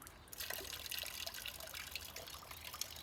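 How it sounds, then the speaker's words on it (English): Water trickles and drips from a rotating Roman-style bucket wheel, a soft, close, continuous splashing with scattered small drips, faint and alone. "So let's start rotating the bucket wheel."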